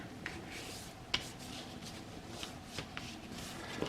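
A sheet of paper is creased and folded into a seed-starting cup close by. Soft rustling and rubbing is broken by a few sharper crease snaps, all at low volume with no talking.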